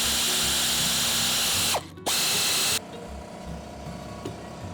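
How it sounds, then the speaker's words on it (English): A nibbler cutting sheet metal for a 1969 Mustang shaker scoop, a loud, close, continuous high-pitched rattling grind that stops briefly, resumes, then cuts off to quiet motor whir. "we're gonna very carefully try to use this nibbler"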